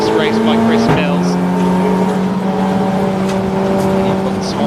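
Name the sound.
race cars at Snetterton, Golf TDI and TT TFSI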